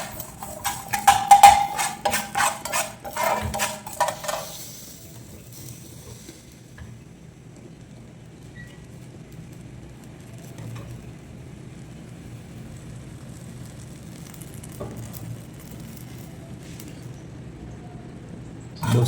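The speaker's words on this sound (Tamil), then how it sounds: "லைட்டாக வறுத்துக்கணும், ரொம்ப வறுத்துடக்கூடாது" Fish masala spices fry in a pan, with loud crackling sizzle and stirring bursts for the first few seconds, then a softer steady frying hiss that carries on to the end, with no talking.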